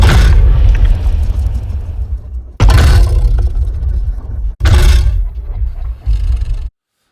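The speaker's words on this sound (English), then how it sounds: "I used it as a sweetener for the roar, for the aggro roar scream." Designed Mosasaurus roar sound effect, aggressive layered scream-roar in three loud, rumbling, gritty bursts with sharp onsets, close and heavy in the low end, ending in silence.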